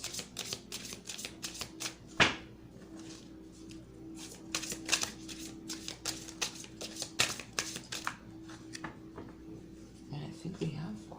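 Tarot cards are shuffled in quick, repeated riffles and soft slaps, close and fairly quiet, under a person talking throughout.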